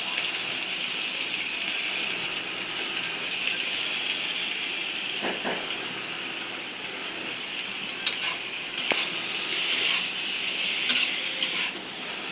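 Chopped potatoes fry in a pan for noodles with a steady, hissing sizzle, broken by a few sharp clicks and scrapes of stirring, with no voices.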